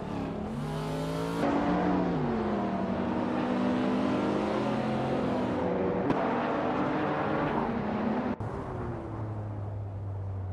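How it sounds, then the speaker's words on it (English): A 1985 Peugeot 205 T16 race car engine in a racing video game revs hard and shifts through gears, rising and falling in pitch with steady, loud drive and brief drops between shifts. "Sanjogstwolf is driving a 1985 Peugeot 205 T16."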